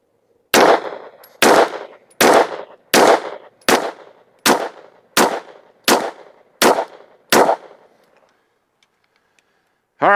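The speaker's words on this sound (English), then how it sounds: "we're gonna shoot the last 10 shot group with the comp" Ten gunshots fired through a Strike Industries Micro Comp muzzle device at an outdoor range ring out as sharp, loud cracks at an even pace, each followed by a short echoing tail, then quiet.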